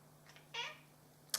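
A house cat meows indoors, giving a faint short call and then a louder, clearer meow, with a small sharp sound at the end and no talk.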